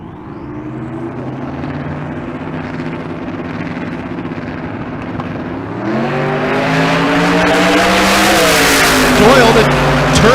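Drag race cars launching and accelerating down the strip at Bandimere, a steady loud engine drone with rising revs that climbs into a roaring, brighter blast as the run builds.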